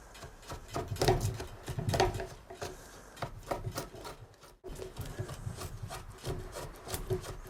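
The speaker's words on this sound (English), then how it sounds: "And then back again to the draw knife." A draw knife shaves wood while an ox yoke is being shaped, giving repeated rough scraping pulls in an uneven rhythm, close and fairly loud, with a short pause midway before the strokes resume.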